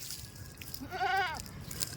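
A single wavering goat bleat, close and moderately loud, rises over quiet outdoor background noise on a farm, with soft faint sounds before and after.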